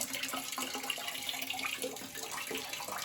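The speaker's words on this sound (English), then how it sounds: "I'm draining some water out of this boiler" Water runs and splashes steadily, gurgling as it drains out of a Burnham steam boiler in a continuous flow, close and moderately quiet.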